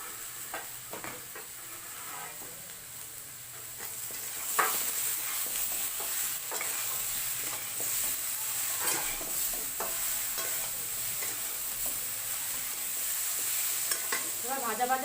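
Mixed vegetables with turmeric and salt sizzle and fry in a pan for spinach curry, with steady crackling and repeated scraping stir strokes close by, no talk.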